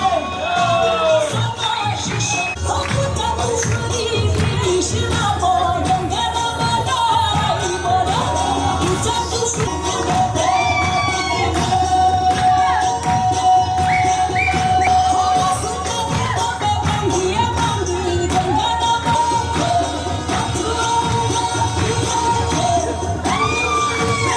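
Audience at a Tiens International seminar in Solan, Himachal, cheering and clapping, with whoops and shouts forming a dense, loud, continuous wash of crowd noise throughout.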